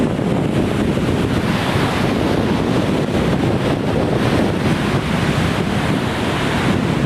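Sea waves surge against the coast at high tide, making a loud, continuous wash of surf mixed with heavy wind buffeting the microphone. There is no talk.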